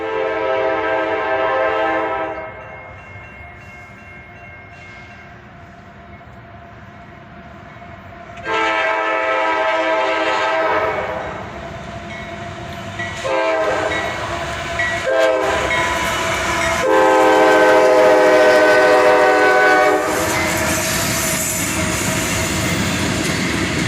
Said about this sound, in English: Check this out, a pair of GEVOs, a GP40-2 and an SD42, and then just 8 cars with 4 locomotives.